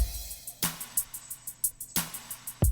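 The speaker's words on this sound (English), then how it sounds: "the canned beat I picked was C0 beat 5, so it sounds like this" A sparse drum pattern with regular, evenly spaced hits and a couple of heavier accents over a quiet, washy background.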